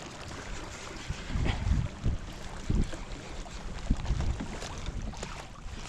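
A motor-driven fishing kayak towing a tandem rig runs on open water off Port Mansfield, giving a steady broadband rumble mixed with wind and water noise and a few duller low thumps, with no talking.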